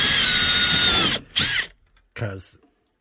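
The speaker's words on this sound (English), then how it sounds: "the drill bit pulls it in" A power drill whirs loudly for about a second, then two short bursts follow as it countersinks and drives into wooden battens, with brief pauses between.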